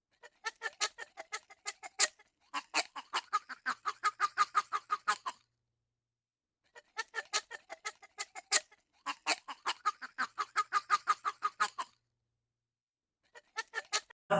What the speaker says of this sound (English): This is a duck.